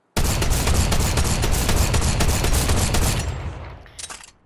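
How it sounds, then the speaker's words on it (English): A Fortnite shotgun fired in rapid succession, a dense burst of about a dozen loud, close blasts for three seconds before a trailing echo and one last crack. "just how much and fast this shotgun fires"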